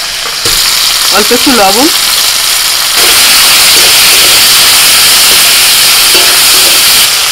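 Chopped tomato pieces fry in hot oil in a pan after a tempering of asafoetida, giving a steady broadband sizzle throughout, with someone speaking briefly over it near the start.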